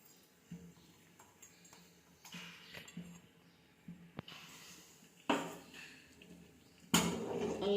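Shallots and green chillies are stirred in a pan, with quiet scattered scrapes and metallic taps from the utensil and two louder clattering bursts near the end, no talking.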